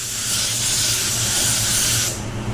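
A spray gun lays an even coat of pearl white paint onto a Maserati, giving a steady, close, loud hiss of paint spray that runs continuously before cutting off near the end.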